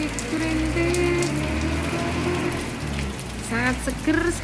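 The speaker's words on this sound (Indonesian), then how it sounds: "Hujan rintik-rintik" Light drizzle falling in a rural garden with banana trees during the rainy season, a soft steady patter close by with someone speaking over it.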